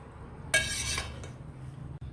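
Metal spoon stirring jaggery-sweetened rice in a cooking pot, a short scraping clatter of utensil against the pot followed by quieter soft stirring, close and alone.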